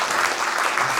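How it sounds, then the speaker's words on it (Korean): Audience at a church conference applauds the panel, a loud, dense, continuous wash of clapping from many hands. "박수 드리겠습니다."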